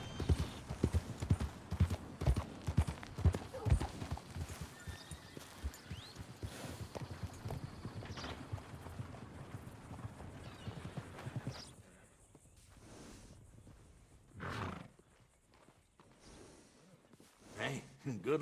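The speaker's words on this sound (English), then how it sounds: "Hey, good-looking horse there." Horse hooves clip-clop along a path in Red Dead Redemption 2, a steady walking rhythm under continuous game dialogue and background music, fading quieter later with a few sparse louder sounds.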